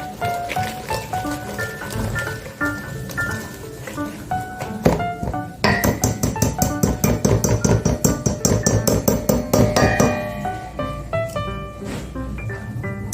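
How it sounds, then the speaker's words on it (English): Whisk beating a butterscotch batter in a bowl, a rapid run of close, light tapping clicks that grows busier and more rhythmic midway, with faint background sound but no clear talking. "I've got me a whisk."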